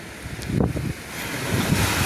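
Wind roars steadily over a stormy sea in the Maldives, with waves surging and washing in a broad, continuous rush, no voices heard.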